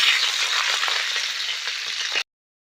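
Chilli and onion frying in mustard oil in a wok give a steady, close, fairly loud sizzle for about two seconds before it cuts off abruptly.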